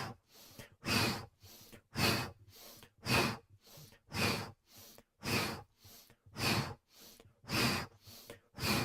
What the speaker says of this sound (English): So inhale right, exhale left.